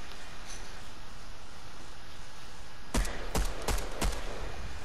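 Gunfire in a shooter game: four sharp, loud shots in quick succession near the end, preceded by a quiet stretch of low ambient hiss.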